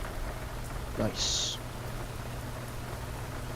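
Steady rain patters continuously in the X-Plane 12 flight simulator as a Boeing 737-800 sits parked at the gate, with a short electronic tone partway through and someone speaking briefly over it.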